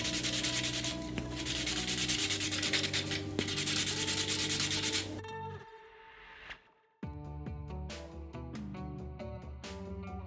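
Steady, harsh abrasive rubbing of sandpaper on a hard resin cosplay staff prop, continuous for several seconds, then a brief pause before scratchier, choppier strokes resume.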